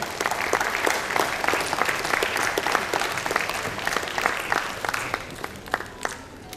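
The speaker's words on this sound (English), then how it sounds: "Keep that applause going, guys." Steady audience applause fills the hall at a tech and innovation summit, dense and fairly loud with individual sharp claps standing out, carrying on evenly throughout.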